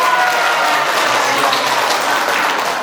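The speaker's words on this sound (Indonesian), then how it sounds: "Kita beri aplaus untuk oma-oma yang main angklung" A crowd claps for a group of grandmothers who have just played the angklung at a thanksgiving Mass, with steady, full applause filling the room from start to finish.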